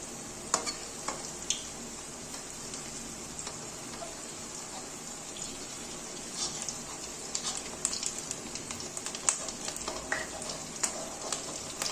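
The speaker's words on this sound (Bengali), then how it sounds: "আঁচটা একদম কমিয়ে নিয়ে এখন আমি ভেজে নেবো বড়াগুলো" Bottle gourd fritters sizzle and crackle steadily in hot oil over low heat, with scattered pops and a few light scraping stirs.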